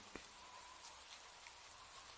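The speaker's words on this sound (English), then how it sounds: "The rain is falling softly outside" Soft rain falls steadily outside, a faint, even patter with occasional isolated drops standing out, heard alone with no voices.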